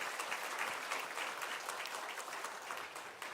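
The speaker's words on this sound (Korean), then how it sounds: "격려의 사랑의 박수를 한번 보내주시기를 부탁을 드립니다" A church congregation at a Sunday worship service gives sustained, dense applause for a flutist from Latvia, a continuous clapping wash from many hands at moderate loudness.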